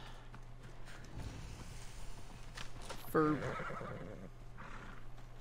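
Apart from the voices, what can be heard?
summoned horse in video game Assassin's Creed Odyssey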